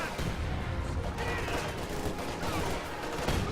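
Gunfire in a WWII real-time strategy battle, a dense continuous rattle of many weapons firing at once with voices blended into the constant din.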